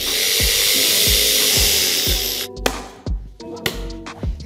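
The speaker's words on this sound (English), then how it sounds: "Let's cut it out." A power saw cuts through a tongue and groove wall panel, its loud whine running steadily for about two and a half seconds before stopping, followed by clattering knocks as the cut piece is handled.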